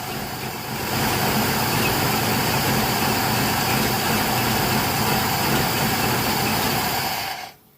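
A vehicle engine running on a 62-year-old carburetor with the air valve held closed, a loud, steady close-up roar that picks up after the first second, holds evenly, then cuts off abruptly at the end.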